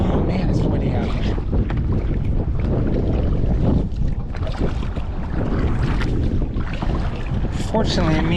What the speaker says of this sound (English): Oh man, it's windy out here.